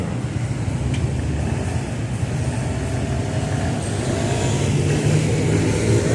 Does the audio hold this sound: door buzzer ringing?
no